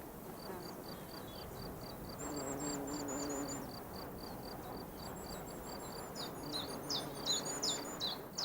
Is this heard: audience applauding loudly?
no